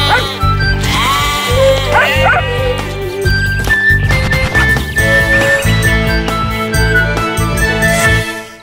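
Loud sheep bleat repeatedly over a steady music bed with jingling tones, the bleats rising and falling close up throughout.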